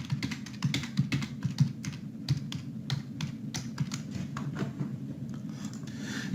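Someone types a review response on a computer keyboard, with close, irregular bursts of key clacks and short pauses, and no voices.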